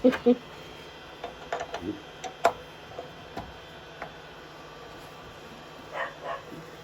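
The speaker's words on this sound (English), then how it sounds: "that's the dog's wanting to get in on the action" A few short dog barks, some sharp and close, scattered between quieter bumps and background noise, with a louder pair at the start.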